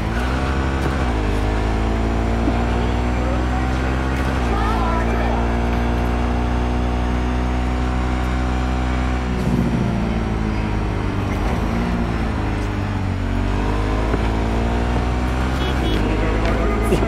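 A car in Cyberpunk 2077 (version 1.6) accelerates with a steady, loud engine drone that climbs through shifting harmonics, speech heard faintly under it throughout.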